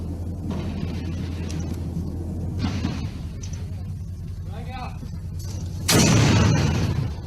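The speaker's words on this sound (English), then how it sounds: "Explosions and then some gunshots." A steady low rumble with scattered distant bangs, then a sudden loud burst near the end, like an explosion followed by gunfire.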